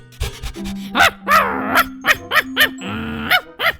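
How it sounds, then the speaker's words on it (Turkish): A dog in Minecraft barks repeatedly in quick, uneven bursts, close and loud, with whining and growly tones over a steady synthetic hum. "Babacığım bu köpek niye avlıyor?"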